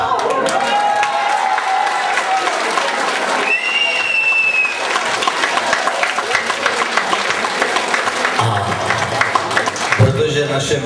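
Concert audience applauding and cheering for a new young singer at an outdoor show in Hlinsko, a dense steady wash of clapping from many hands, with brief tones and a shift in sound near the end.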